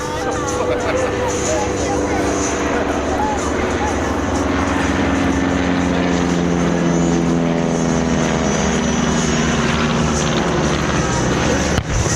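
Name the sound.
WWI biplane six-cylinder aero engine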